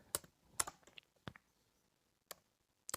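Code is typed on a computer keyboard in short, irregular bursts of sharp, close keystroke clicks separated by quiet pauses.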